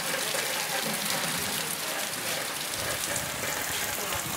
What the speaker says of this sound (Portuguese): Muita água, galera, caindo aqui na bica, olha.